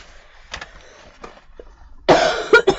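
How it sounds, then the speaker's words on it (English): A person blows their nose, with a few soft snuffs and then a loud, close, forceful blow in two or three bursts. "I just need to blow my nose"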